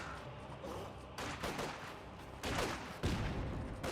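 Volksgrenadiers open up with rifle gunfire in Company of Heroes 2, a dense crackle of overlapping shots with sharper bursts that swell partway through and again near the end, continuous and fairly loud without speech.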